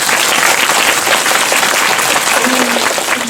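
Audience applause at a film talk event for the movie Parasite, with cast and director present: steady, dense clapping from a large crowd fills the room throughout, with a brief tonal sound near the end.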